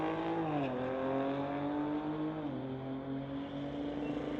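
A 2019 Audi and a BMW launch side by side at a street-legal drag strip, a loud sustained engine roar with rising and shifting pitch as they accelerate away, heard from nearby with no talk.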